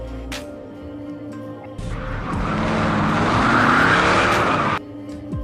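A car in the action film The Rock tears away with squealing, skidding tyres and a loud engine that swells for several seconds, then cuts off abruptly.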